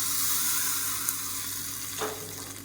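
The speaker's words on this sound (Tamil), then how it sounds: "கடுகு உளுந்து வரமிளகா கருவேப்பிலை பெருங்காயம் போட்டு தாளிச்சிருக்கேன் இது அப்படியே இதில் சேர்த்துக்கலாம்" A hot tempering of mustard seeds, urad dal, dried chili, curry leaves and asafoetida sizzles steadily, with a sharper burst of crackling as it is poured into a chutney.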